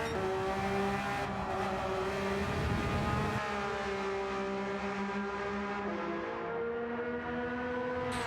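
Engine of a Group 3 race car accelerating around Suzuka in Gran Turismo 7, a steady, loud tonal whine with gear-shift steps, and the pitch rising and falling over several seconds.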